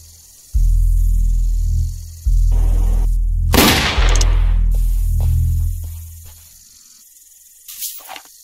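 A gunshot in a Roblox Wild West game rings out as one loud sharp burst midway, set among low droning, hissing game sounds that cut in and out, with a fainter crack near the end.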